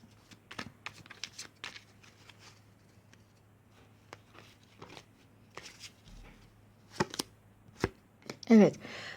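Tarot cards handled on a table, a string of soft riffling shuffles and snaps followed by a louder card being drawn near the end, close and fairly quiet.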